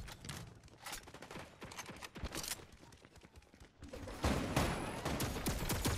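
Rapid bursts of turret gunfire in the video game Fortnite crackle in dense volleys, fairly faint and distant at first, then growing louder and more continuous toward the end.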